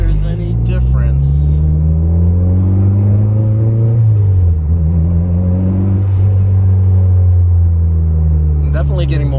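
A car with a replica HKS blow-off valve pulls hard on a road, its engine droning loud and close as it accelerates, rises and shifts, with a brief flutter of the valve near the start and end.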